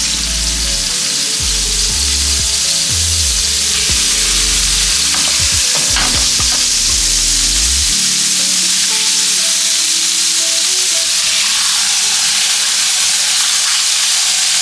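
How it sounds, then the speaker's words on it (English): Fish frying in a little hot oil gives a loud, constant close-up sizzle and hiss, with clatter from stirring and a low rumble that stops partway through. "then we start frying our fish"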